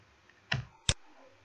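Two crisp computer mouse clicks a fraction of a second apart, close and fairly quiet, pressing the OK button during Gmail setup in Outlook, over a faint background hum.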